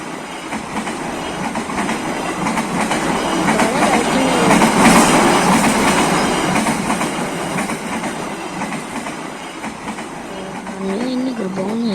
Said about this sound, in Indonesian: Ini ada suara kereta api.